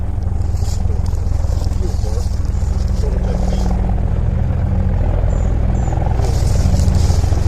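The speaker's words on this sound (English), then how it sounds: "if a helicopter flies over, we're going to let it go by. Here comes one." A helicopter passes overhead outdoors, a steady, loud low throbbing rumble lasting the whole time, with faint voices beneath it.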